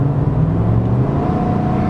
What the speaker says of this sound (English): Christian, you have a sick exhaust setup.